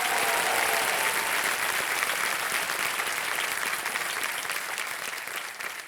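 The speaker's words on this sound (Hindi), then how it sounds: "तालियां बज जाए इनके लिए" A studio audience on a quiz show breaks into loud, dense applause that fills the room, then slowly thins and fades toward the end.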